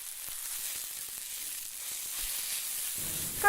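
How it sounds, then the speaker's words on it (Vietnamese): Fried fish stir-fried in a pan with salt, lemongrass and chili powder sizzles in a steady, close hiss, with small scraping stirs through it. "chúng ta sẽ thêm cá vừa chiên vào rang"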